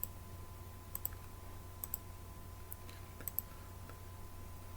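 Mouse clicks on a computer login screen, a few sharp, faint ticks spaced about a second apart over a steady low hum, with no talking.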